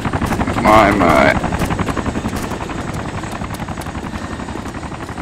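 A helicopter in the video game DayZ Origins passes right overhead, its loud rotor chop filling the scene while people talk over it.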